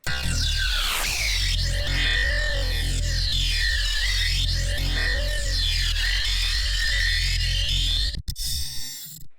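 A buzzy synth bass drones steadily while an automated comb-filter cutoff sweeps up and down in repeating metallic whooshing arcs, then stops abruptly near the end.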